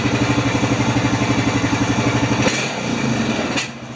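A Honda Rancher 420 ATV engine, in need of more running, idles with a fast, even pulsing chug, then gets a quick throttle snap. A brief rev surges, and the engine settles again near the end.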